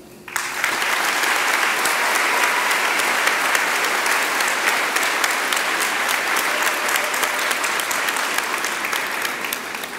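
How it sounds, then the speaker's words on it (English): A crowd at a 2021 high school graduation ceremony gives the school staff a sustained round of applause, dense, steady clapping that fills the whole stretch without a break. "I would like to give a round of applause for our wonderful staff for making this event happen"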